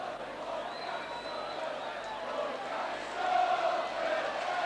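Rugby league crowd at a Leeds match cheering and applauding as a returning player comes back onto the field, a broad, steady roar that swells toward the end.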